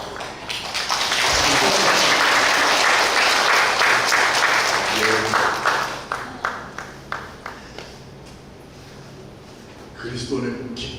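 A church congregation at a revival meeting breaks into loud sustained applause lasting several seconds, then fades into scattered individual claps, with a speaking voice at the end.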